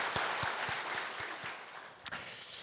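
A church congregation applauds the choir and orchestra after a hymn during a Sunday worship service, steady clapping with a few sharper individual claps standing out and one louder burst near the end.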